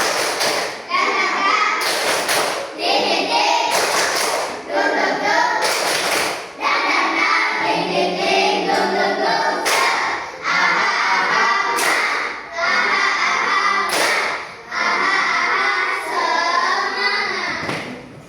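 A standing class of children performs the rhythmic tepuk semangat spirit clap, sharp hand claps and thumps in short repeated bursts, close and loud, with children's voices chanting along between claps.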